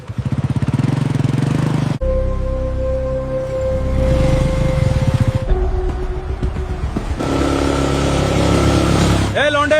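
A car engine runs loudly and close, revving and shifting pitch in stages as the vehicle speeds off, with voices faintly underneath.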